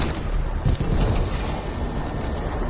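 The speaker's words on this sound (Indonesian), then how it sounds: "Tanknya meledak." A tank blows up in the World War II shooter Battlefield 5, a dense, loud rumbling blast with low booming energy that rolls on steadily for a few seconds, with no talk over it.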